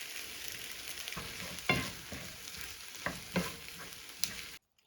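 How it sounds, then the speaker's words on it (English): An egg cracked straight into a hot pan hisses and crackles up close, with a few sharp spits and pops over a steady sizzle that cuts off abruptly at the end. "I'm going to crack it directly into the pan"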